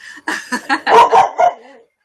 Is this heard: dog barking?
yes